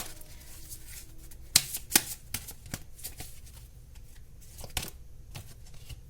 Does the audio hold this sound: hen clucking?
no